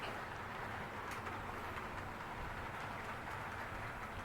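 A small MTH model Southern Pacific GS4 steam locomotive climbs a grade, humming and rattling steadily at low level, with faint clicking wheel noise and a continuous mechanical hiss.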